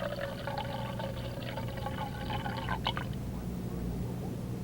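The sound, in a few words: milky water with suspended sediment poured off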